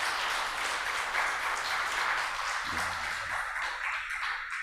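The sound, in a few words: congregation applauding to welcome a visitor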